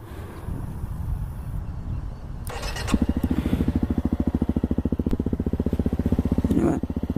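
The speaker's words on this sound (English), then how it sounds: "you want to at least make it sound like a dirt bike. So we'll take her for a little ride" A 2013 Honda CRF 250 L dirt bike idles with wind buffeting the microphone, then the single-cylinder engine revs up into a fast, steady pulsing thump as it rides off close by.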